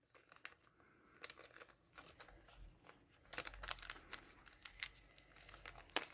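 A plastic sachet of stickers is crinkled and torn open close by, giving irregular crackling rustles that grow denser and louder in the second half.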